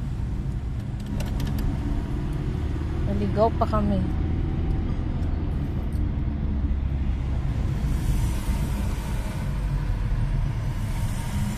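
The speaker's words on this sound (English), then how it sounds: "Traffic." Road traffic passes as a constant low rumble of cars, trucks and buses, with one short horn-like tone in the middle and a person speaking briefly over it.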